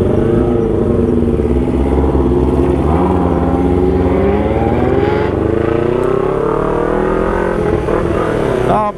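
A Kawasaki Ninja 250 motorcycle engine revs loudly up close, its droning pitch climbing and wavering through repeated throttle blips, with voices talking over the engine noise.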